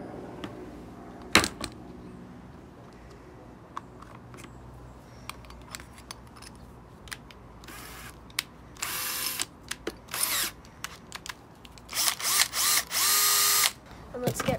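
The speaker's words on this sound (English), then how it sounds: "so that means I have to drill some holes there." Short bursts of a power drill whirring in and out, growing louder and more frequent toward the end, with clicks and handling noises between them.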